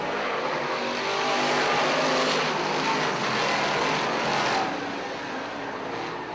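A pack of stock cars racing side by side at Airborne Speedway in Plattsburgh, New York roars loudly and continuously, with dense engine noise swelling and ebbing as the cars pass close by.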